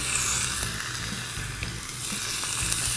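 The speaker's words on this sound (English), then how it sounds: "And then we'll go season side down in the pan." Cod fillets sear in olive oil in a hot pan, a steady, loud broadband sizzle running unbroken for the whole stretch, with faint low clatter of the pan underneath.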